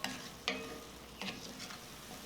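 A spoon stirs chicken and mushroom pie filling with softened vegetables and vermouth in a pan, giving a few soft scraping strokes over a faint, steady sizzle.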